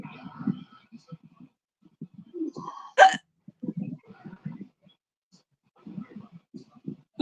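Repeated hiccups from a person in a casual indoor group chat, a sharp loud hiccup standing out among several softer ones, with people talking around them.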